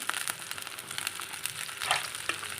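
Crackling, spattering sizzle of spices tempered in hot oil for curd avial, busy and bright with sharp pops, close up and alone.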